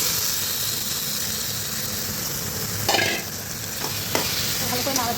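Chicken tipped into hot, oil-separated spice paste sizzles loudly and continuously in a pan, with scraping stirs and a brief surge of hiss as it hits the oil.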